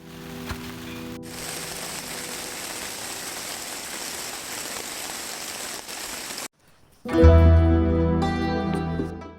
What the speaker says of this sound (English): Staying inside the tent in the mountains, listening to the rain